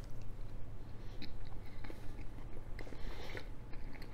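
Close, quiet chewing of a bite of warm sous vide German potato salad with bacon, onion and vinegar: soft, repeated wet mastication sounds with faint crunches, no talking.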